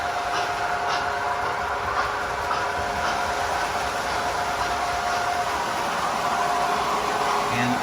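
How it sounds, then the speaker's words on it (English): An American Flyer standard gauge toy train locomotive runs around a small 4x8 holiday layout, giving a steady close rolling whir with faint rhythmic clicks from the track. "We are running a American Flyer standard gauge locomotive."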